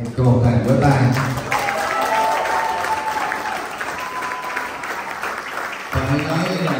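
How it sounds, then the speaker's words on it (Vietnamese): Audience at an evening performance night of a Buddhist youth camp held at a temple, giving a loud, sustained round of applause and cheering that swells, dips briefly near the end and resumes. "Cho một tràng vỗ tay."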